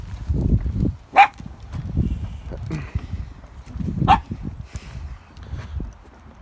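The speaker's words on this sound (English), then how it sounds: "Our dog." A dog at a volcano site gives two sharp yelps or whimpers a few seconds apart, heard over low background rumble and muffled sounds nearby.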